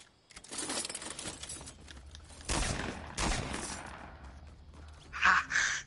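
Gunfire in the video game Fortnite, a few sharp shots spread across several seconds with a busy background of game sounds, one more distinct burst near the end.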